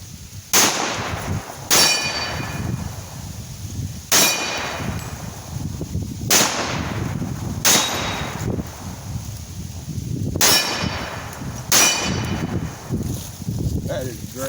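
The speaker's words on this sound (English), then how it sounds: "we'll shoot a few things, and then I'll put the second clip in" A Tisas 1911A1 pistol fires about seven sharp shots at a target outdoors, spaced irregularly a second or two apart, each a loud crack ringing over low background noise, with voices faintly between shots.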